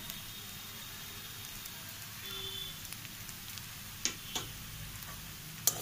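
Ghee added to a pan of radish curry, giving a faint, soft sizzle with a few scattered ticks and pops over a quiet kitchen background.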